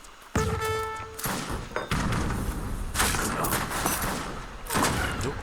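Gunfire and cannon blasts crash repeatedly through an Age of Empires 3 battle, with dense, loud bursts and thuds overlapping in a chaotic stream. A commentator's voice may sit faintly underneath.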